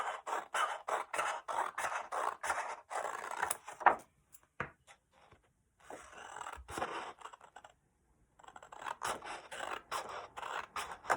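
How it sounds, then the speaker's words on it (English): Scissors cut long strips of paper for a beginner's paper weaving craft, making repeated close, crisp snips in bursts separated by short pauses. "Now cutting again, similar to creating your warp."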